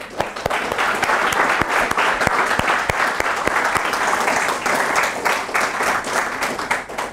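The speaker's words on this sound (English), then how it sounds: "A round of applause for the parents here." An audience at a lecture applauds the parents, a loud, continuous wash of many hands clapping at a steady level from start to finish.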